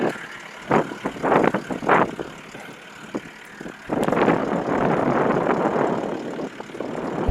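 Vehicle engine running while being driven in first gear low, with a steady rumbling drone that swells and fills the second half, after scattered clunks and bumps at the start.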